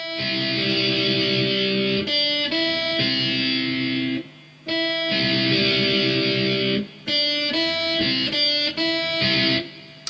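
Distorted electric guitar plays the interlude from a song, loud sustained chords cut by brief gaps and quick choppy strums, heard alone with no vocals.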